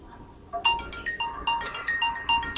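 An incoming call on a phone sounds its ringtone as a bright, repeating melodic chime that starts after a quiet half-second and pulses steadily, loud and alone.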